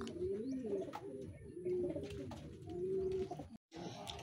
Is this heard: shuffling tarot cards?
no